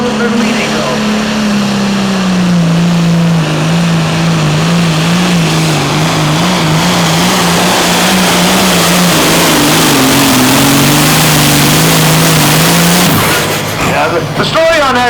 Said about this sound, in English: Now Jeremy Platts with the big one. He hauls it out. The American Chaos tractor.